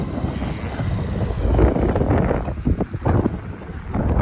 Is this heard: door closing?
no